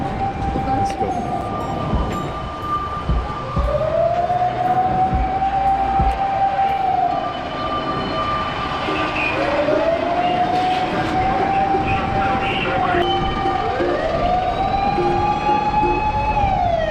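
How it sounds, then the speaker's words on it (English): Several fire engines wail along a street in Osaka, their sirens rising and falling in long repeated sweeps, loud and close, over steady traffic and city noise. "Suddenly there's a lot of fire engine here."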